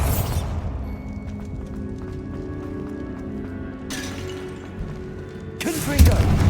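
Bombarda explosive spell going off in Hogwarts Legacy: a sharp burst at the start, another midway and a heavier blast at the end, all over a steady low rumble and tonal game ambience.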